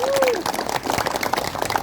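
Brief scattered clapping from a small crowd at a community declaration gathering in Setu Cipayung, heard faintly under someone speaking Indonesian over a PA.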